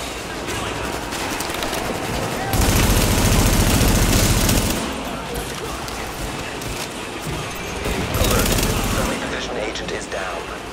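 Gunfire rattles through a firefight in Tom Clancy's The Division, with bursts of automatic shots and a louder, heavier barrage in the middle, under nearby voices.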